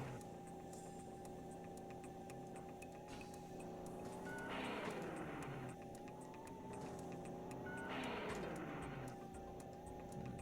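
Simulated car engine from the Knight Rider video game on PS2, misfiring slightly: a steady synthetic engine drone with harmonic tones, broken by two rising revving sweeps, moderately loud and without talk.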